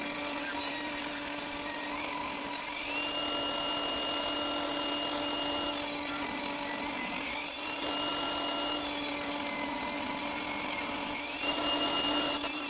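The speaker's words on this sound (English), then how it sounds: "I start by cutting some mahogany and purple heart into 1 centimeter thick pieces." A power saw cuts mahogany and purpleheart wood into thick strips, a loud steady motor drone with a rising whine as each pass bites into the wood, repeating in roughly four-second cycles, close up with no voices.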